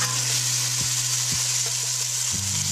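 Vegetable broth hitting a hot risotto pan, a continuous bright sizzle and bubbling with a few soft stirring knocks, close and steady, alone with a low hum underneath and no talking.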